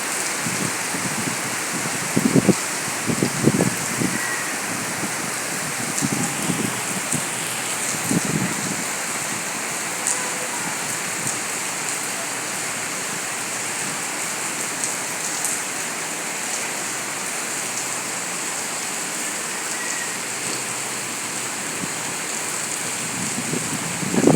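Heavy rain pours steadily onto surfaces as a dense, continuous hiss, with a few brief rumbling gusts early on and no voices.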